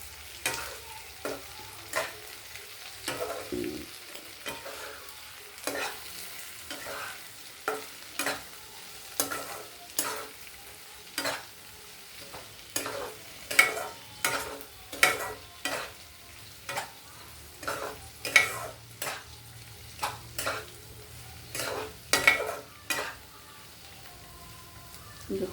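Okra and potato pieces fry in a pan under a soft steady sizzle, with a spatula scraping and stirring in regular strokes every second or so, close and fairly quiet.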